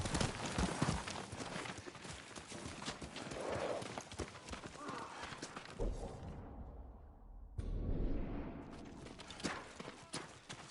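A horse walking with steady clip-clop hoofbeats in Ghost of Tsushima, a video game, the hooves moderately close under ambient game sound and a brief voice.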